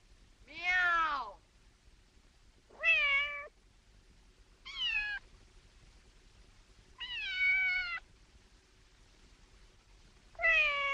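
Five drawn-out meows imitated by a person at spaced intervals, each rising and falling in pitch, fairly faint, with quiet gaps between them.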